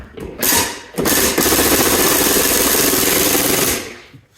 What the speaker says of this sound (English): which is why I love my impact drill